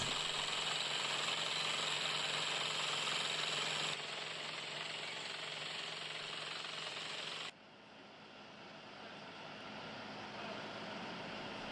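A heavy rock drill boring large anchor holes up to about twenty metres deep into a fragile cliff face, a continuous loud rapid hammering drone that drops in level twice, with no talk.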